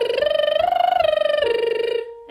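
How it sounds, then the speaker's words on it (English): A voice does lip trills as a vocal warm-up, a buzzing, fluttering tone that slides up and then settles lower across a sustained phrase, loud and close, alone without speech, fading out at the end. "Our next warm-up that we're going to do is some lip trills."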